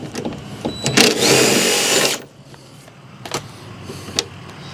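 A power tool whirs for about a second as it backs the original bolt out of a gear plate, a loud whine that stops abruptly, followed by quieter clicks and handling noise.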